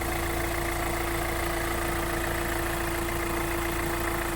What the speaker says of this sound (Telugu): ఇంజన్ చాలా స్మూత్ ఉందండి.